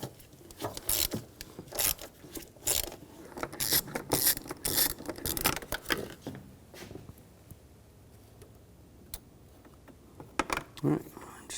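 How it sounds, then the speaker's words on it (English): A ratchet with a 10mm socket works a bolt loose on a 2007-2013 BMW X5 3.0L inline-six, giving quick clicking bursts up close that thin out into quieter handling noises. "Using a 10mm socket,"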